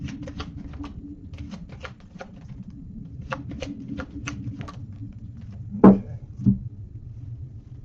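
Tarot cards being shuffled and laid out in a reading, a series of soft crisp riffles and flicks over a low steady room hum, ending with two brief louder taps of cards set down.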